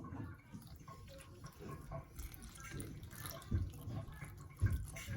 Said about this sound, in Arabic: انا عندي هنا دقيق والسميده نتاعي نزيد عليها الماء